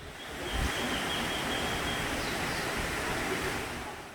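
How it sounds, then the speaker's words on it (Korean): Seryeom Falls, a small two-tiered waterfall on Chiaksan in Wonju, roars as a steady, close broadband rush of falling water that holds evenly throughout with no voices. "이 폭포가 세렴폭포인데요. 아주 아담한 2단 폭포입니다."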